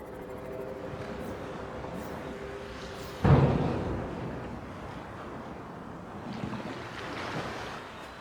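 Ocean waves in the Subnautica video game, a steady wash of surf with one sharp splash-like crash partway through, then softer rolling water, no voices.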